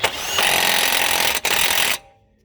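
A power tool hammers a new 32 mm driveshaft nut onto a 2012 Subaru Legacy during a driveshaft and lower ball joint installation, a loud rattling burst lasting about two seconds with one short break, then it stops.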